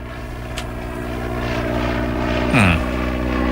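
Propeller aircraft flying overhead, a steady droning engine hum with harmonic tones that swells slightly and shifts pitch near the end as it passes.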